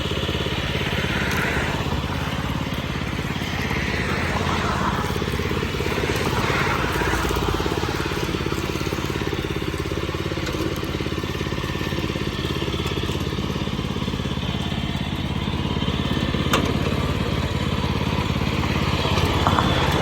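An old Japanese wood chipper engine drones loudly, steadily and continuously with a rough mechanical rumble, like a small motor running at speed, while chipping tamarind branches, with no talk over it.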